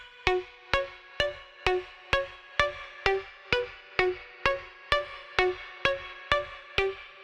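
Serum synth pattern played in FL Studio: steady repeating plucky hits, about two per second, each with a sharp attack and a short tonal tail, alone and moderately quiet.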